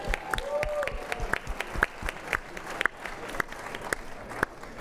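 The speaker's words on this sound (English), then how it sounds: "Round of applause for Jack Gale," A modest audience applauds at a pitch competition final round, steady clapping with occasional sharper individual claps and rhythmic thumps running through it.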